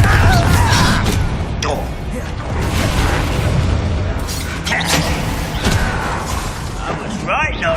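Spell combat in Hogwarts Legacy ending with a Confringo blast, heavy booms, creaking mechanisms and crashing impacts layered over continuous game noise, with a voice speaking amid the action.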